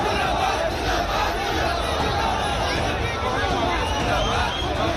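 Constant hubbub from an enormous crowd at a political rally for BJP leader Himanta Biswa Sharma in Assam: a dense, steady wash of overlapping voices and shouts, loud throughout.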